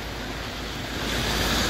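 Rain falls outdoors as a steady broadband hiss blended with a wind-like rush, swelling slightly louder in the second half, with no talking.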